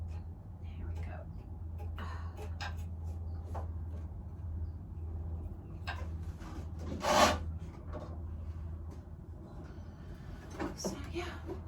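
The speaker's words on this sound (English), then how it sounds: "So yeah, that's all I'm doing, just trimming." A clay pot is trimmed on a spinning wheel at home, making a soft, steady scraping rasp over a low hum, with quiet talk and one louder scrape near the middle.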